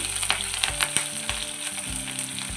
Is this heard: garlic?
yes